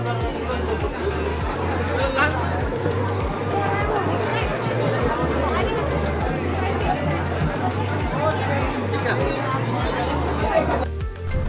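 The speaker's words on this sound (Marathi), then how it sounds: "पूर्ण महाराष्ट्रातून दर्शनाला येणारे लोक होते, त्यामुळे खूपच गर्दी होती तिथे" A large crowd of pilgrims at Jyotiba temple in Maharashtra during the Chaitra fair: continuous babble of many voices with a steady low rhythmic thumping beneath, people talking nearby throughout.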